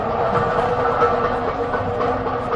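A Delhi metro train runs at speed, giving a steady, loud rail roar and rumble with faint clickety-clack that holds throughout without a break.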